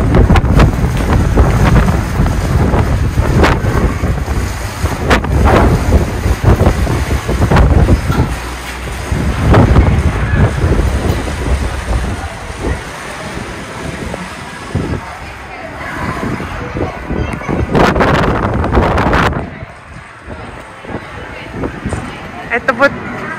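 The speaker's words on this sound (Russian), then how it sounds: "и ветер сильный." Strong wind blows by a lake popular with tourists, buffeting the microphone in a continuous roar with heavier gusts, while a voice talks intermittently over it.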